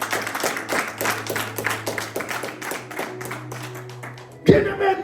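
A church congregation claps together in steady rhythmic applause to acclaim the Lord, dense and continuous under a held organ-like tone, ending in a sudden louder burst.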